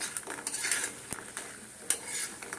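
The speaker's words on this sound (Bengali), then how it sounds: "বড়িগুলো দিয়ে ভেজে নিচ্ছি" Lentil dumplings (bori) frying in mustard oil in a pan, a steady soft sizzle broken by occasional metallic clinks of a spatula stirring, close and fairly quiet with no voices.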